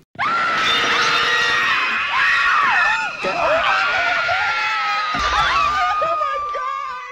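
A woman screams loudly and without a break through the whole clip, a high, piercing sustained shriek with wavering pitch, playing a horror-film scream queen, with no other voices heard.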